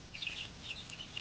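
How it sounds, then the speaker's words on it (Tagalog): Farm chickens cluck and chirp just after being let out in a garden farm, a few short, faint calls over quiet background. "Pinakawalan ko yung aking mga manok."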